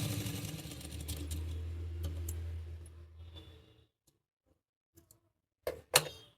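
A sewing machine stitches a one-year-old girl's ghagra with a steady close hum and whir for about four seconds, then stops. A few faint clicks and handling knocks follow in the quiet.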